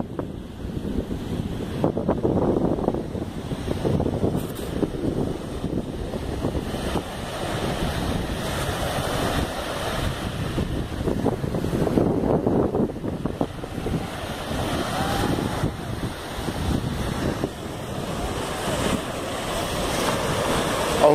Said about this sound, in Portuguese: Uma praia calma, você vê que não tem ninguém